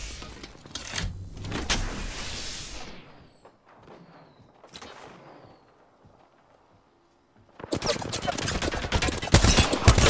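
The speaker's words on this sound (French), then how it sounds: "Je recharge mon bouclier." Shield recharging in Apex Legends: an electric whirring charge with a descending whine, fading through a quiet stretch before a dense, loud burst of mechanical noise and rapid gunfire-like clatter.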